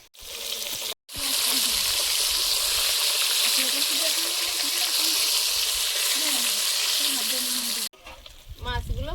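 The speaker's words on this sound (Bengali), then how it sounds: "মাছগুলো ভেজে নেব।" Fish frying in hot oil in a home kitchen, a loud steady sizzle that runs almost without pause, briefly cut off and then resumed, with faint voices underneath.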